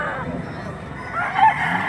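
A rooster at a market crows faintly in the background, its brief call rising near the end under a low murmur of crowd noise.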